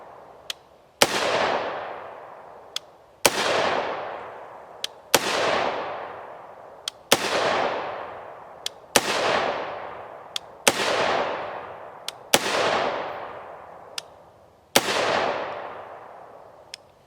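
Eight sharp 5.56x45mm rifle shots firing Sellier and Bellot 77gr OTM ammunition from a short barrel, evenly spaced about two seconds apart, each a loud crack trailing off in a long fading echo.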